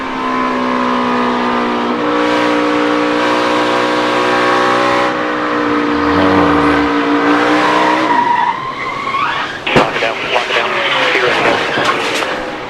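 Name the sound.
NASCAR race car crashing into the grass and wall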